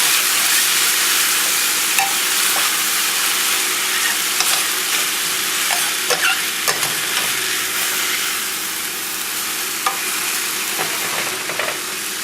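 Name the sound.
stirring and frying chopped vegetables in a pan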